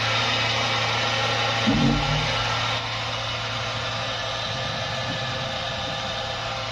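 An electric honey-transfer pump runs steadily, giving a continuous mid-pitched motor hum with a brief louder bump early on, then settling into an even, constant drone with no talking.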